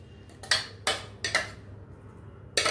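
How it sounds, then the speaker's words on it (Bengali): Thick red chutney paste is scraped from a vessel onto a plate, heard as four sharp, close clinks and scrapes of a utensil against crockery spaced irregularly over a quiet background. "এবারে এটাকে আমি একটা প্লেটের মধ্যে ঢেলে নেব।"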